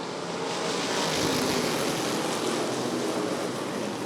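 Race cars roar at full throttle after a green-flag restart at Rockford Speedway during a bracket feature, a dense, loud, continuous engine drone from a pack of cars.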